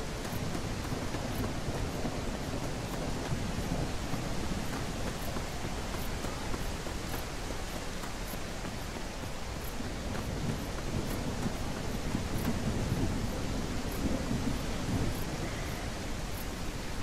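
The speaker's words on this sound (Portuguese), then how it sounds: "eu odeio chuva nesse jogo. É muito barulhenta." Heavy, noisy rain pours steadily in the video game Drug Dealer Simulator 2, a dense unbroken hiss that fills the whole scene at a constant loud level with no voices.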